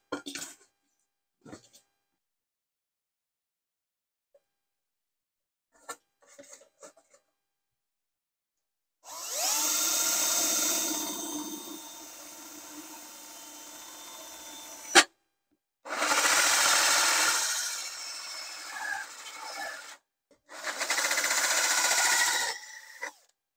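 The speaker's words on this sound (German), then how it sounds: "dann bohren wir hier mal fröhlich ein Loch rein" A cordless drill whirs in three sustained bursts, loud and close, boring a hole, with short quiet gaps and a few faint clicks and knocks before the drilling starts.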